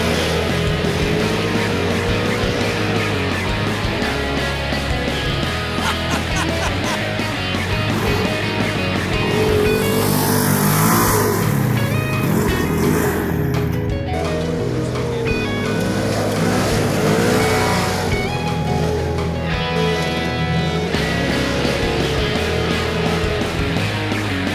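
A Polaris RZR side-by-side pushed hard along a trail, its engine roaring continuously and loudly with rising and falling revs, gear-like surges and rushing wind noise close to the vehicle.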